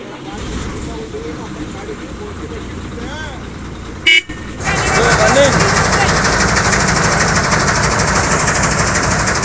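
A new motor vehicle runs with a rough, loud engine while people talk over it, a short horn toot sounds midway, then the engine grows louder and steadier.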